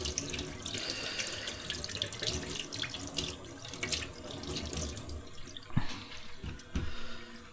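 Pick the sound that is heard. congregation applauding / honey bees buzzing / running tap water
running tap water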